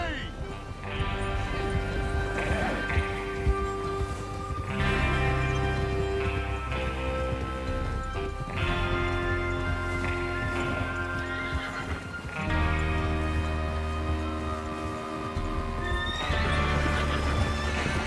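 Horses in the Western video game Red Dead Redemption 2 clip-clop and whinny as a gang readies to rob a train, with steady hoofbeats and occasional neighs under a swelling musical score and voices.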